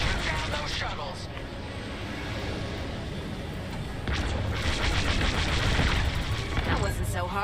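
Starfighter cannons fire in rapid bursts at shuttles in the space combat game Star Wars Squadrons. The shots sit under dense engine and explosion noise and grow louder toward the end, with a voice talking over the action.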